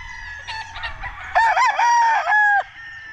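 A Jerry Jenkins Sweater gamefowl rooster crows loudly and close by, one long drawn-out cock-a-doodle-doo with a few short clucks leading into it, set against faint farmyard background noise.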